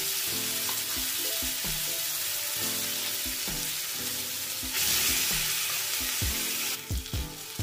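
Green pea paste fries in a thin layer of leftover oil in a wok, with a constant close sizzle and repeated rhythmic stirring scrapes and knocks, growing briefly louder and hissier near the end.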